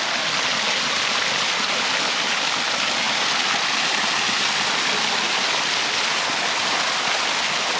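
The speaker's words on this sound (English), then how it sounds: "Alright folks, here's one of the waterfalls." A waterfall on Cedar Creek in the Shawnee National Forest roars steadily and loud, a continuous broadband rush of falling water with no breaks and no voices.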